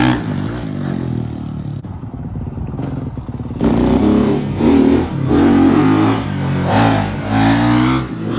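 A Honda CRF450R dirt bike revs hard while riding a wheelie, loud close engine bursts that rise and fall in repeated surges after a brief quieter idle.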